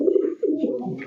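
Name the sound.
red Rajgolla pigeons cooing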